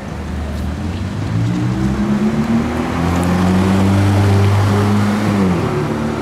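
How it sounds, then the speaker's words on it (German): A Ferrari F8 Tributo accelerating on a Zurich street at night, its loud engine note rising steadily in pitch through a sustained pull, close by and dominant. "Ferrari F8 Tributo."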